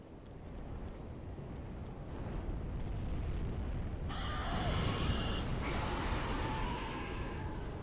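Dragon fire breath in Dark Souls 3 roars as a dense, continuous rushing blast that swells to a louder, brighter burst partway through and keeps going, with faint ticking game sounds at the start.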